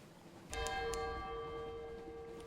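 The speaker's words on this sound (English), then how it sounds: "Distant bells." Distant bells chime in the sailing video game Sunless Sea: a single ringing strike with a long, sustained metallic tone that slowly fades, faint and alone.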